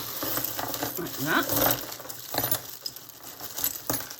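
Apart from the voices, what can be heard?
jangling pieces of broken jewellery being handled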